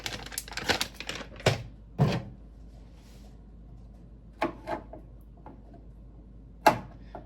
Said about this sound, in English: Go ahead and chop up the garlic.